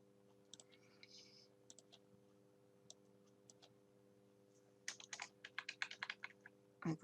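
Computer keyboard arrow keys click in scattered single taps, then a quick burst of rapid presses near the end, close and fairly quiet over a steady electrical hum while laying out a PowerPoint slide.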